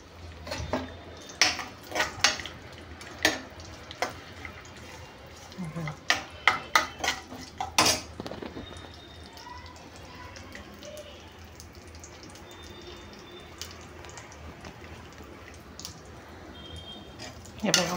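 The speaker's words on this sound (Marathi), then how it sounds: "छान आता परतू द्यायचं मस्त" A spoon scrapes and clinks against a pan while semolina and raisins are stirred for ravacha shira, sounding as a run of sharp metallic taps in irregular bursts that thin out into quiet background with occasional clicks.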